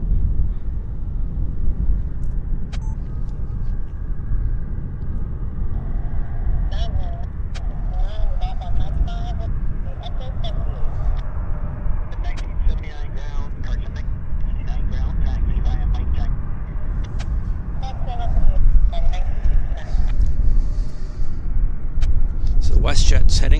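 A WestJet airliner departs Vancouver airport's north runway, heard as a broad, distant jet roar under outdoor wind rumble that slowly builds and swells louder toward the end.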